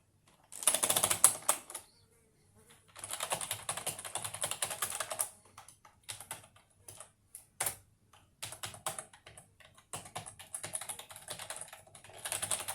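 Someone types on a restored mechanical computer keyboard, producing dense bursts of close, clacky keystrokes broken by short pauses and scattered single key presses, with no talk.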